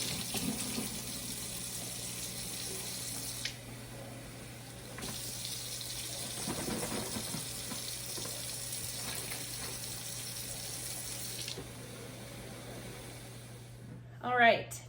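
Recycled plastic milk jugs rinsed under a running tap in a sink, a steady close water stream that briefly pauses, with a clatter of handling near the end and a voice faintly heard.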